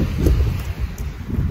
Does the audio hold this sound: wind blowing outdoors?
yes